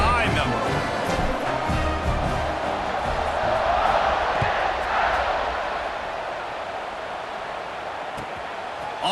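A college football video game stadium crowd roaring steadily for several seconds, a loud sustained wash of cheering under a commentator's voice.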